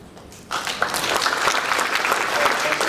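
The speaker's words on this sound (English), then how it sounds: "a big round of applause for our sponsors" Applause bursts in suddenly from a sizable conference crowd and keeps going steadily, a dense wash of clapping hands.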